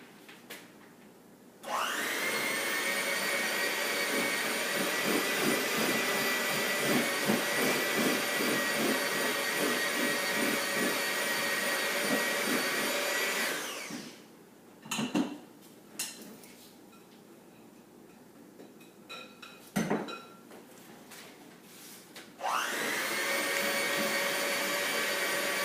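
An electric mixer whirs steadily through a batter mixture for several seconds, stops amid brief clatter and scraping, then starts again near the end, loud and close with no talk.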